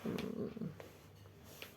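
A cat purrs close by in a quiet room, a low rumbling purr that is strongest in the first moments and then fades softer, with a few faint rustles.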